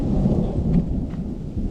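A thunderstorm rolls over Arctic hiking country along the Kungsleden, with a steady low rumble of thunder and rain pattering continuously throughout, loud and close with no voices.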